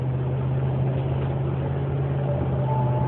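Whining noise from a 2009 Dodge RAM 1500 pickup truck while driving around 35 to 40 mph in stop-and-go traffic, a steady low-pitched drone with road rumble that holds continuously.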